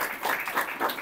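A church congregation claps together in a dense, steady burst of applause that fills the room, with no voices over it.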